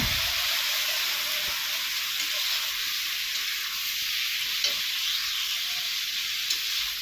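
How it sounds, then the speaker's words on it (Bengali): Spices poured onto potatoes frying in oil give a steady, loud sizzle with hiss throughout, unbroken and close, with no voices. "দেখো আলুর সাথে এখন মশলাগুলো ঢেলে দেওয়া হলো"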